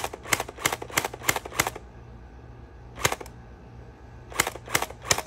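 A SPATRBALL SRB 400 gel blaster firing on single fire, with sharp close snaps in two quick bursts of five and four shots separated by a lone shot, gel balls cracking with each.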